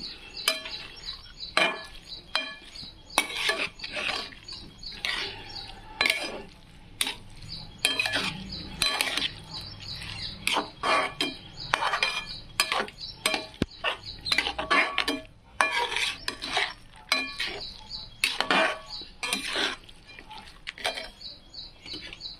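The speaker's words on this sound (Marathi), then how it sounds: "छानपैकी मुगाची डाळ अशी मिक्स करून घ्यायची आहे" Moong dal being stirred in a pot, giving a steady run of close, sharp scraping and clattering strokes that continue for about twenty seconds with no talk.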